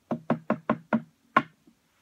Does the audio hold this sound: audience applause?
no